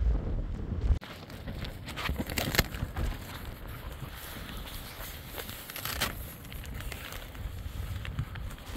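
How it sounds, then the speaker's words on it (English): Steady wind gusting around a staked tent beside a solar electric vehicle, a continuous broad rushing roar with buffeting against the microphone and occasional flapping knocks, no voices. "the wind is dying down a little bit, but it's gonna pick up"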